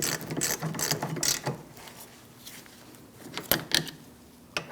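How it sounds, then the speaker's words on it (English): A ratchet tightening the rear brake bolts on a 2000-2006 Mini Cooper: quick bursts of clicking from close by, with short pauses between them and a few sharper clicks near the end. "Get these started and tighten them down."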